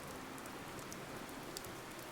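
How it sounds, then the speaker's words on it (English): Steady soft rain patters on a rain slicker and a weathered, black-painted railing on a stone staircase by the sea, a dense, even hiss with a few brighter drops and no voices. "The rain begins to patter softly on your rain slicker"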